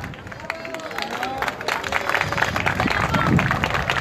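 Audience applause and cheering after a folk music performance in Posadas, with clapping mixed into crowd babble and shouts, building slightly louder toward the end.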